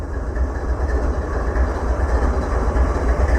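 A CSX freight train sits tied down with its locomotive engines idling, giving a steady, loud low rumble that runs without a break through the whole stretch, with no voices.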